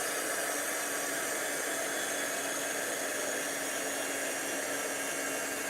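A heat tool blows a steady, loud rushing hiss as it melts embossing powder on silver leaves for a papercraft card, unbroken for several seconds with no talk.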